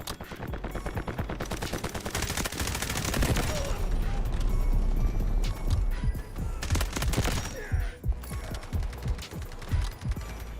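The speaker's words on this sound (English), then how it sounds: "Artillery barrage incoming." Dense artillery barrage and rapid gunfire in the military shooter game Delta Force, with sustained overlapping automatic bursts and heavy explosive booms, loud and continuous throughout, broken up by sharp impacts near the end.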